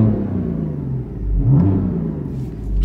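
A BMW M4 with an M Performance exhaust revs, heard from inside the car with the windows closed: a steady low rumble that swells into a louder, deeper surge midway, then settles.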